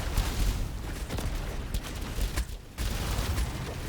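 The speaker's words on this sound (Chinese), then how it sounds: "火球爆炸时还会抛出小炸弹" A fireball blows up and flings out small bombs in a roguelike survival action game, a loud, dense barrage of crackling bursts and rumbling blasts that barely lets up.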